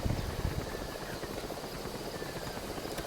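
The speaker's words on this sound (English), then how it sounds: "I'm just waiting for a chopper." A helicopter in Metal Gear Solid V: The Phantom Pain whirs steadily with a rapid rotor chop, sustained and fairly close, with no talking over it.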